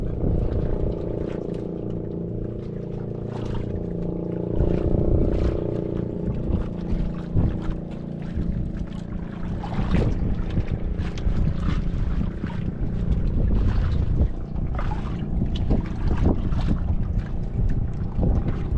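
A boat engine drones steadily with wind buffeting the microphone, the motor rising and falling slightly with scattered knocks and splashes.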